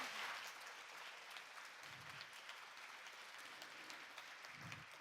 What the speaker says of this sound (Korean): 이사장님께 다시 한번 박수 부탁드리겠습니다